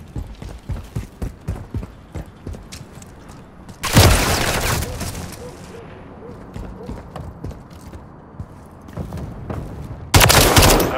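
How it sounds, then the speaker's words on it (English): Friendly mortar strikes in Call of Duty: Modern Warfare 3 hardpoint play: two loud, broad blasts land several seconds apart, with rapid clattering gunfire and bursts of talk in between. "Friendly mortar deployed."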